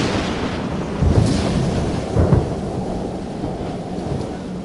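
Thunder rumbling through a thunderstorm, a continuous loud roar with two heavier rolls about a second apart, steady rain-like hiss underneath, no voices.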